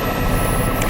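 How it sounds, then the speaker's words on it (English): A news helicopter flies overhead near a forest fire, its rotor beating in a loud, dense, continuous roar that fills the whole moment with no voices. "WESH 2's Luana Munoz is overhead live in Chopper 2."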